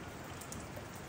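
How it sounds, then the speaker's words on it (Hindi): Rain falls steadily near India's Line of Control with Pakistan at Teetwal village, a dense, even hiss of drops across the whole short stretch with no pauses. "बारिश हो रही है, थोड़ा मौसम अपने साथ में नहीं है"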